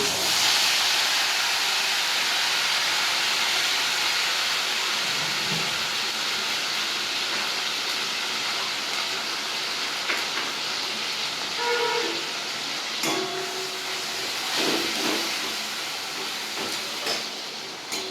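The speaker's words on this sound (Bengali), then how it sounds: "রসুন আর কাঁচা লঙ্কা টমেটোমের যে পেস্ট করে রেখেছি ওই পেস্টটা আমি এই তেলের মধ্যে দিয়ে" A garlic, green chili and tomato paste hits hot oil for a banana kofta curry, producing a loud, broad, hissing sizzle that slowly eases off, with a few clinks and no talk.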